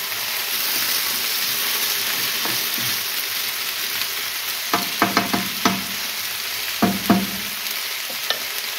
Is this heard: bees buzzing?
no